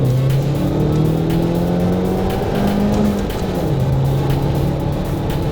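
A 2012 Opel GTC Astra's 1.6-litre turbo petrol engine and exhaust, 180 horsepower, paired with a six-speed manual, climbs and drops in pitch through gear changes, steady and fairly loud with no voice.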